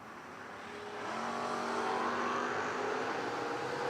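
A Camaro launching down a drag strip at a footbrake bracket race, engine roar swelling after the first second and holding loud and steady, with rising harmonic tones as it accelerates away.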